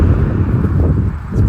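Cars drive past on a nearby road, a steady loud rumble of traffic with wind buffeting the microphone.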